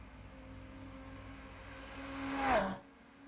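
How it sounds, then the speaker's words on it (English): A Ferrari 488 race car engine in the pits at Sebring in a racing video game drones steadily, then briefly swells in a whining rev before dropping away abruptly, with no voices. "I can hear a car in the pits at the moment."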